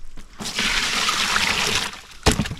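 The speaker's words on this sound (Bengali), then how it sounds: "ওই যে একটু জল হেলাই তো" Water sloshing and pouring out of a container while catching tilapia, catfish and climbing perch, a loud rushing splash lasting about two seconds, then a brief sharp splash near the end, with no talk.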